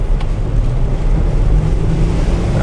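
A 2014 Land Rover Discovery 4 XE with an 8-speed automatic accelerating, a loud steady low engine roar with broadband road and wind rush throughout, no talk.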